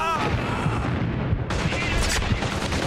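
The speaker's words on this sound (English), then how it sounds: "Yo, who's shooting at me?" Heavy gunfire in the video game Caliber, dense booming shots and rapid bursts filling the whole moment, loud and close with a faint voice mixed underneath.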